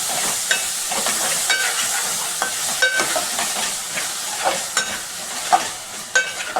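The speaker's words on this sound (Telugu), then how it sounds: "ముక్కలు అల్లం పేస్ట్ టమాటా ముక్కలు బాగా కలుపుకున్నాం" Ginger paste and tomato pieces get stirred in a frying pan, a soft continuous sizzle broken by repeated scraping strokes and metallic clinks of the spatula at irregular intervals, with no voices.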